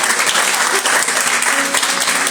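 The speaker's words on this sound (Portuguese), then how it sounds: "Você pode aplaudir ao Senhor por essa palavra?" A church congregation applauds loudly and steadily, dense clapping filling the space throughout without pause.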